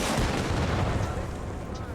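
In Arma Reforger, a Russian disposable RPG launcher fires, a loud, dense blast that rolls into a long booming roar filling the whole moment.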